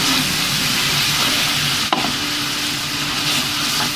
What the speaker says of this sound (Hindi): मसाला मेरा अच्छे से भून गया